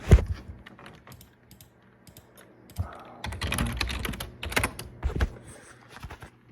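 Loud, clacky keystrokes from an old Dell computer keyboard, bursts of fast typing with short pauses, close up and without talk.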